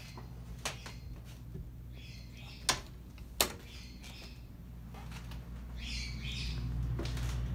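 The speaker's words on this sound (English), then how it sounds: "Ignore my birds in the background, they're very loud." Pet birds chirp and squawk in the background of a house, brief bright calls scattered over a steady low hum, with a few sharp clicks.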